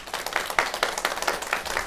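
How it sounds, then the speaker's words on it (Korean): Audience applause welcoming a lawyer speaker onto the stage at an AI academy lecture, steady clapping from a sizable crowd for two seconds with no talk. "박수로 환영해 주십시오."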